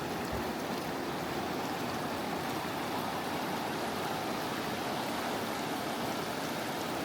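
A river stream rushes steadily near Bridalveil Falls in Yosemite Valley, a constant dense roar of flowing water, loud and close, with no voices.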